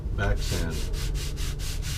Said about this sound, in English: sand the back side with a sanding block.